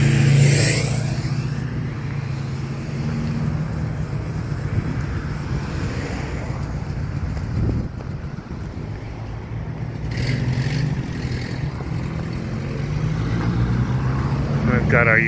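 Steady road traffic in Hilo, Hawaii, on a Friday afternoon, cars passing one after another as a continuous broadband rush with wind buffeting the microphone throughout, loud and close.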